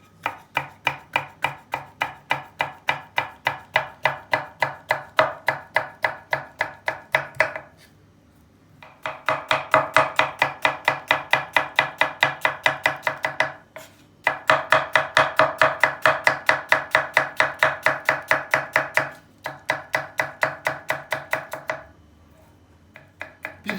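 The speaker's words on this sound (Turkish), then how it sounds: "Bir tane de kapya biber doğrayacağız." Rapid, rhythmic knife chopping of a red pepper on a board, close up, in long continuous bursts separated by brief pauses.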